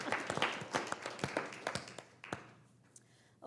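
A small group claps at a school board meeting, scattered and uneven, thinning out over a few seconds, fairly faint and heard from a distance in a room.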